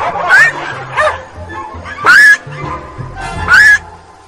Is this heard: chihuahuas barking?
yes